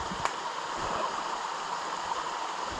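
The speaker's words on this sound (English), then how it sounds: "not quite waterfall, but trickle of water down the rocks. A little cascade," A small cascade of water trickles down rocks beside a mountain trail, a steady, close, full-bodied rush and gurgle that holds evenly with no voices.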